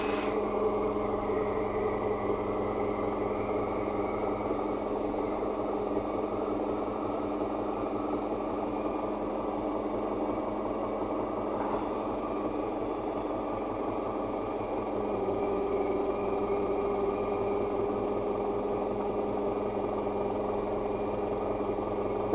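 MTZ-82.1 tractor diesel idles steadily in frost around minus fifteen, a close, even low rumble with fine rhythmic knocking and no voices.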